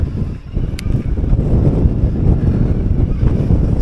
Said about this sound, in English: the wind's quite bad, as you'd expect up here